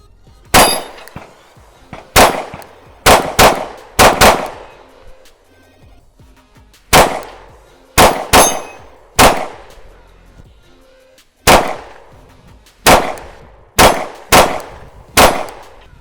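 A Glock 48 pistol fitted with a 15-round Shield Arms S15 magazine fires Federal HST 124-grain hollow points in sharp, loud, close cracks that ring out briefly, about fifteen shots in uneven strings with short pauses between groups.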